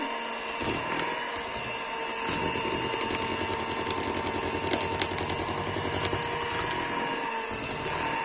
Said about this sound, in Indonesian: Jadi tepung terigunya ini boleh kita mixer ya, asalkan kecepatannya ini kita turunkan